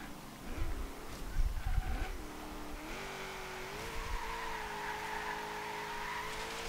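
A 1977 AMC Pacer X in Forza Horizon 3 autocross spins its rear wheels, its tires squealing in long wavering tones over a steady engine drone after a brief louder burst, with no voices.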